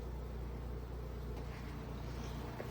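Honey bees, packed densely in a queen-rearing box, buzz steadily and close, forming a dense, continuous hum with no pauses.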